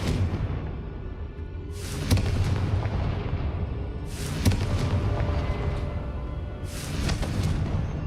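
Three booming Confringo blasting-spell explosions in the Hogwarts Legacy video game, evenly spaced a couple of seconds apart, each a sharp loud crack with a rumbling tail over a steady low background.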